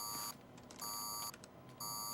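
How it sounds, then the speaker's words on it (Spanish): An electronic alarm in a film's control room beeps in three steady, evenly spaced tone bursts, each about half a second long, over a low hum of room noise. "Oh, Larry, hay una alarma en el sector 3."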